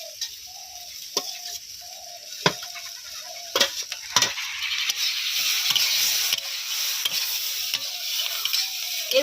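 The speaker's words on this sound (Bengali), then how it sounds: "টমেটোগুলো এর মধ্যে দিয়ে দেবো।" Green tomatoes are tipped into a village pan of fried vegetables and stirred, with scraping, clinking strokes over a steady sizzle that grows louder and denser as the frying continues.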